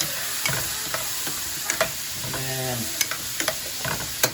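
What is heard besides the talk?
vegetables with garlic cloves sizzling while cooking down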